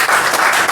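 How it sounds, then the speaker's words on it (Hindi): A room of commerce coaching students in Pratapgarh breaks into brief, loud, dense clapping for their teacher, a steady wash of many hands with no gaps. "जोरदार तालियां हो जाए सर के लिए"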